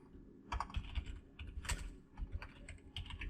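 Fast, close typing on a computer keyboard while entering text in an Excel spreadsheet, with uneven bursts of key clicks and short pauses and no talking.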